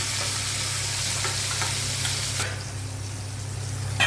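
Leaves stir-fried in a pan with nigella seeds and fried prawns, a steady close sizzle with light stirring and scraping throughout, no talking.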